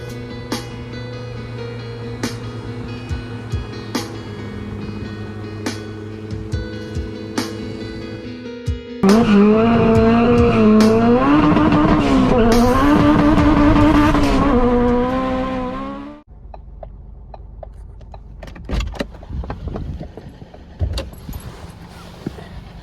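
A Honda Civic engine with a cracked intake runner idles with clicks and rattles, then roars loudly and rises in pitch for several seconds before dropping back to idle.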